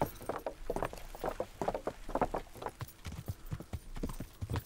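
Horse hooves beat while riding in the video game Kingdom Come: Deliverance, in a steady, rhythmic clip-clop of repeated close hoof strikes.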